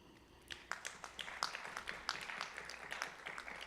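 Audience applause at an oil and gas conference welcoming an engineer on stage, starting after a brief pause with scattered sharp claps that settle into steady, moderately faint clapping.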